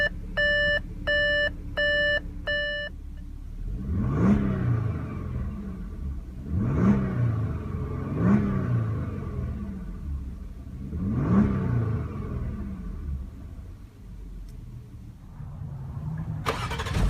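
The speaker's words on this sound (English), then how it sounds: "push the start button located on the center console once to start" A 2016 Audi A7 Prestige S Line push-button start: a short series of electronic chime tones, then the engine catches and revs in several loud, close surges that settle back to a steady idle.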